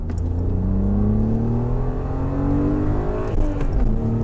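A BMW Z3 Coupé engine pulls hard in second gear from around 3,000 rpm, a loud, close, steadily rising drone that climbs in pitch without a break.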